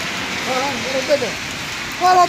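Steady rain falls in a continuous soft hiss on a rainy day, with brief faint voices murmuring underneath.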